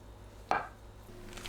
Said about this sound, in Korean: 두부를 1cm 두께로 썰어줍니다.